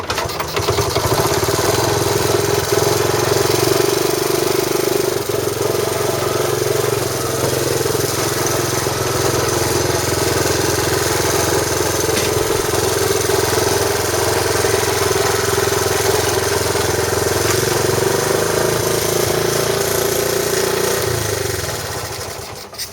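A yellow Honda Trail 90 motorcycle with an untuned carburetor runs steadily for the whole stretch, a loud, close, continuous engine drone that holds an even idle-like rhythm before easing off slightly at the end.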